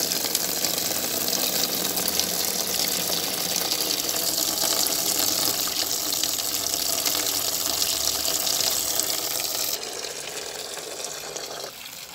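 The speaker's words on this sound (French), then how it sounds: "J'ai arrêté l'eau" Water runs steadily from a tap into a basin being filled, a loud continuous gushing flow that drops and quiets near the end as the tap is turned down.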